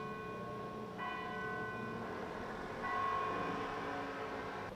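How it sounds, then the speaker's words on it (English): A church bell rings in Malta, clear tonal strikes sounding at moderate distance with sustained ringing overtones, mostly alone against faint background hum. "All right, the bell's ended."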